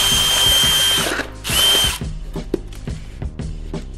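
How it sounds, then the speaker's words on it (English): A power drill bores into expanding foam inside a can for a DIY 40mm gas mask filter prop, with two loud close whirring bursts followed by scattered clicks and knocks of handling. "now what you'll need to do is drill in the foam"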